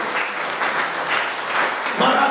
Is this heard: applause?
yes